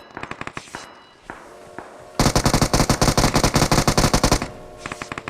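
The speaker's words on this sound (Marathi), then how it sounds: "बॉट फायरिंग करते फालतूची." Automatic gunfire from a bot in the BGMI mobile battle royale game: a few sparse shots, then a loud, sustained rapid burst of several seconds that stops abruptly, with no talk.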